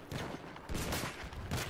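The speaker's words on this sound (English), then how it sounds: "we're getting sniped at" Sniper gunfire in the video game Battlefield 1: a few faint, distant cracks against steady battlefield rumble, with no talk.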